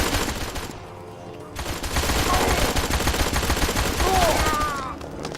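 Rapid gunfire from the video game Blues and Bullets goes off in continuous bursts, loud and rattling, with a short lull near the start and game music tones mixed in.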